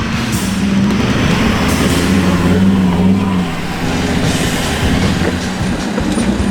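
A Unimog truck grinds along a rocky four-wheel-drive track in Amamoor rainforest, its engine droning loud and close with a steady rumble and rattling clatter, dipping slightly midway, with no talking.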